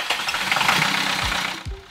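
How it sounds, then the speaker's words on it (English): A Perkins 4.108 diesel engine is cranked over for a couple of seconds, giving a steady, close mechanical churning with uneven knocks and two short low swells near the end. "you'll need to turn the engine over."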